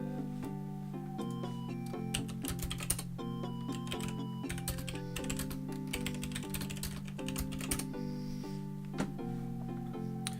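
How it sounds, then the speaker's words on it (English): Rapid keyboard typing, someone entering text into a chat window during an OpenTTD railway-building game, with a steady run of soft clicks underneath continuous game music for the whole stretch. "Just realised I'm typing in chat."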